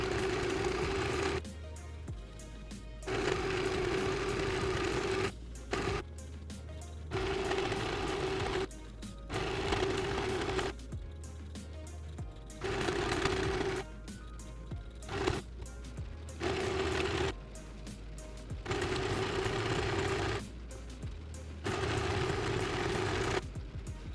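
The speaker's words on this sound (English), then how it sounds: "We're just going to sew it twice like so, and sew it along over here." A sewing machine hems the edges of thrifted clothing in repeated bursts of steady whirring stitching, split by brief quiet pauses between runs.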